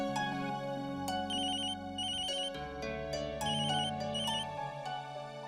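A phone rings with a repeating electronic ringtone melody in an indoor domestic scene, loud and steady for several seconds with no talking.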